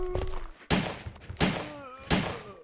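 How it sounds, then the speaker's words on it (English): Handgun fire in the Resident Evil 3 video game: four sharp, punchy shots in quick succession, each followed by a brief metallic ring, loud and close. "the handgun firing is a little faster than the previous two titles"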